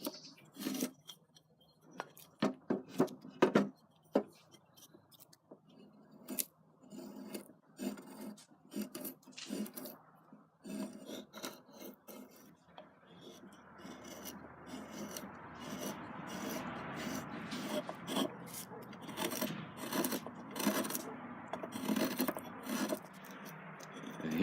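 A sabot knife shaves and rasps a wooden shoe last around the instep, with close, quiet, irregular scraping strokes that turn into steadier rubbing toward the end, and no talk.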